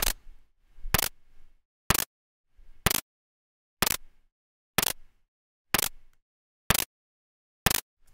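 Synthesized snare drum built in Ableton Live's Operator, hit nine times at a steady, roughly once-per-second pulse, each a sharp bright crack with a quick decay.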